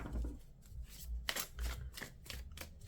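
Tarot cards being shuffled by hand in close, rapid riffling bursts, soft and papery, with no talking over them.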